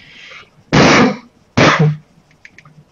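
Two sharp gunshot snaps crack close by in the video game Arma 3, spaced under a second apart, followed by faint scattered distant pops.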